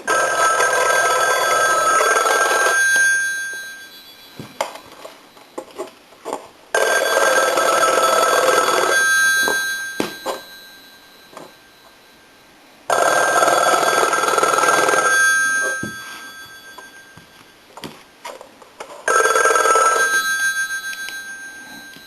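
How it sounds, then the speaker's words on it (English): An old Stromberg Carlson rotary wall telephone bell rings loudly in long bursts, four rings separated by pauses with faint clicks and rustles between them. "I'll go ahead and ring it."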